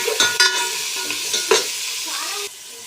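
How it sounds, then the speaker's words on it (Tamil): A spoon scrapes and stirs vegetables for sambar in a hot metal pan with a steady sizzle, a few sharp knocks against the metal standing out. "காயை நல்லா கிண்டி விட்டுக்கலாம்"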